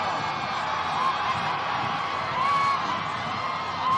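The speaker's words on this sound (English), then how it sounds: "let's just listen to the crowds welcoming their new president" A large outdoor crowd lines Pennsylvania Avenue at a presidential inaugural parade, a steady distant roar of cheering with occasional whistles and shouts rising above it.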